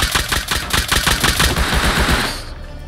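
Rapid, loud bursts of nail gun fire in the survival game Rust, a fast stuttering stream of sharp shots for about two and a half seconds before cutting off.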